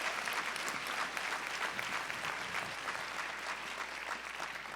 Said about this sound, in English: That deserves a round of applause every time I say so.